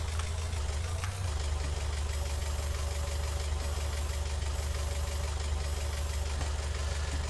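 Steady low engine drone of a farm vehicle driving in Farming Simulator 19, a constant rumble that holds evenly throughout with no talk over it.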